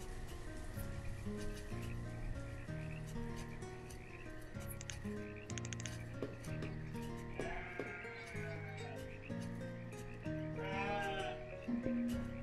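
Sheep in the city-building game Banished bleat several times over a steady backdrop of game music, the calls rising and wavering clearly toward the end, with no talking.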